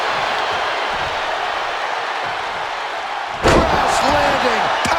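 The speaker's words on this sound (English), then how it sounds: "Crash landing powerbomb." A heavy wrestling powerbomb slam crashes down in WWE 2K25, one sharp loud impact that lands midway through a steady roar of arena crowd noise.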